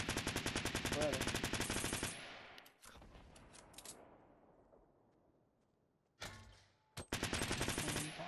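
Rapid automatic gunfire from the Fortnite battle royale video game crackles in a dense burst, drops to a fading echo, then resumes with further sharp volleys near the end.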